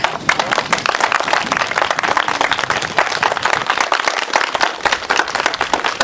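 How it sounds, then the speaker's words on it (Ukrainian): Audience applause at a Ukrainian choir concert, dense steady clapping from many hands throughout, loud and close with no voices over it. "І і, і висловити свою вдячність аплодисментами."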